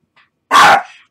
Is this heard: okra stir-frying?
no